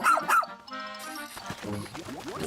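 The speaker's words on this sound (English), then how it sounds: "Dog." A dog barks in a Pikmin video game trailer, two sharp yips up front followed by a sustained tonal whimper and then background game sounds and music, fairly close and clear.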